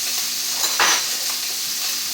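Sirloin steak fries in a hot pan with a steady, close sizzle throughout, and a brief louder hiss partway through where the meat goes back onto the heat. Nobody speaks.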